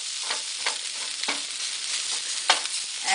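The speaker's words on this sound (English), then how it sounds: "I am still stirring in the carrots and hamburger." Carrots and hamburger meat sizzle in a hot pan while being stir-fried for pad thai, a steady close frying hiss broken by repeated scraping strokes of the stirring utensil.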